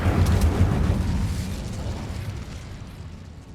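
An Incendio fire spell going off in Hogwarts Legacy, a heavy booming burst of flame that hits loud at once, then rumbles and slowly fades over a few seconds.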